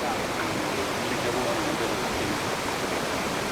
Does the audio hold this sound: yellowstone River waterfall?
yes